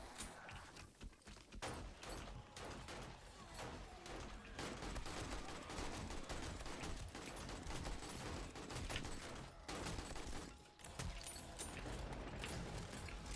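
Automatic turrets in the 7 Days to Die video game firing in rapid, continuous bursts, a dense crackle of gunfire with brief gaps, fairly faint overall.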